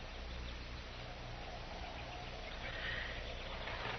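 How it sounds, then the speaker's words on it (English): Horse whinny sound effect from an old western radio drama, a single fairly distant neigh heard over steady hissy background noise with no voices. "Now, there's your horse. And he's still saddled."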